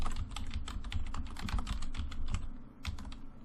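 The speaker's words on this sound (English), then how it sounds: "If I hit tab after I'm done typing something in a cell, it'll go to the next cell in that row." Rapid, uneven typing on a computer keyboard while entering text into spreadsheet cells, a steady close clatter of key presses with a brief pause near the end and no talk.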